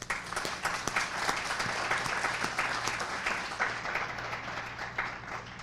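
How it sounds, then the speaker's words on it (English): Applause from a sustainability conference audience, a dense steady patter of many hands clapping for several seconds, moderately loud and slowly tapering toward the end, with faint voices underneath. "so we should give them a round of applause"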